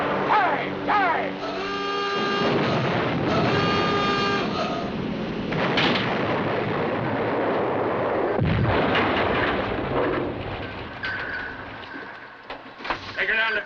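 Heavy gunfire and booming explosions strike a submarine's bridge during a surface attack in a war film, loud repeated blasts over a blaring horn and alarm tones, with shouted voices among the din.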